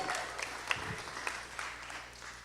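Audience applause at a live gaming show event, a faint, steady wash of clapping from a crowd heard at a distance for a couple of seconds, with a few sharper claps standing out.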